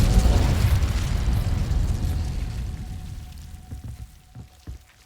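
A fire spell, Incendio, is cast in the Hogwarts Legacy video game as a loud burst of roaring flame that fades over a few seconds, followed by faint pops and crackles.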